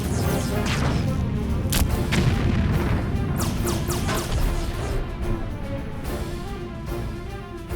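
Torpedoes firing and exploding in a space-ship naval battle in the Treasure Planet game: a dense series of loud crashing booms and sharp impacts, one after another over a heavy rumbling background, with no talk.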